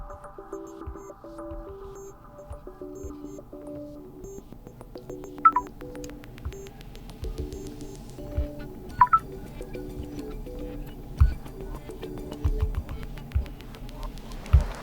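Keypad tones sound as a PIN is entered on a Vivo Y35 phone screen lock, a string of short electronic beeps with sharp taps at intervals over a faint steady hum.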